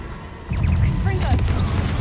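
A Confringo spell blast in the Hogwarts Legacy video game, a sudden low, booming burst at about half a second that stays loud and rumbling to the end, with faint whooshing and crackling effects above it.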